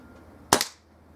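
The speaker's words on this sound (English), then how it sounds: "Fourth shot, top right." A single sharp shot from a Kral NP02 air rifle fired at a target, one loud close crack with a brief decaying tail, otherwise quiet.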